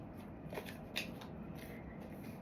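Tarot cards are shuffled and drawn in a brief, soft riffle and flutter, faint and close over a low background hum.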